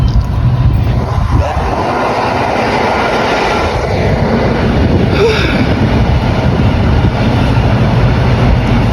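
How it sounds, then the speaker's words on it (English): A train rumbles past at close range in Poland, its broadband roar and clatter steady and loud throughout, with faint talk in the background. "There's another train coming."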